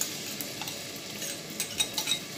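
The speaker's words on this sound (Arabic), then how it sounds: "بعد ما السمنه والزيت سخنوا يا حبايبي كده، هنزل بقى بالبصله." Onion frying in hot ghee and oil for an Egyptian okra tagine, a soft steady sizzle close by with a few stirring scrapes and clicks toward the end.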